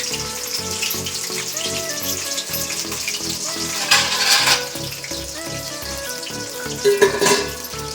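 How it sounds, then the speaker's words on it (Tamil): Vegetables fry in hot oil with a steady crackling sizzle that runs throughout, swelling in brief louder bursts as they are stirred, with no one speaking. "காய்களாம் ஒன்று போட்டுட்டு பொரிஞ்சு வரட்டும்."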